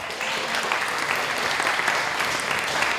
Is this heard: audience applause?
yes